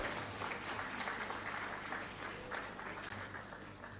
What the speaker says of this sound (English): We can give him another round of applause as he makes his way up.